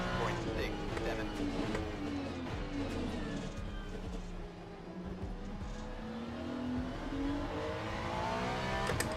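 A Ferrari race car in Le Mans Ultimate drones at high revs down the track, engine pitch sweeping and shifting, with a voice talking over it.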